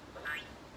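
A VTech Touch and Teach talking toy book plays a recorded bird call, one short, faint squawking quack against low background hiss.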